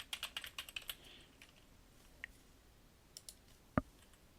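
Quiet typing on a computer keyboard: a quick burst of light key clicks, then scattered single taps and one sharper keystroke near the end, close and with no talking.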